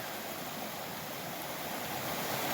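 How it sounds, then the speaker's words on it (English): Loud, steady rush of a mountain creek, a broad continuous wash of flowing water close by with no other sounds. "now you can see how loud the creek is"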